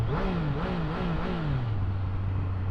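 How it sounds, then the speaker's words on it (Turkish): A 2024 Triumph Street Triple RS motorcycle engine revs in quick, wavering blips close by, then settles back to a low, steady idle rumble. "Genel egzoz sesi seviyesi bir tık düşmüş ama Yine eski Triumph sesi mevcut"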